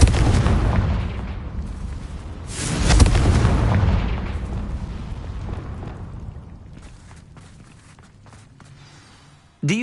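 A Confringo blasting spell explodes in Hogwarts Legacy, a loud booming burst with a rumbling tail that slowly fades over several seconds, followed by quieter game sounds.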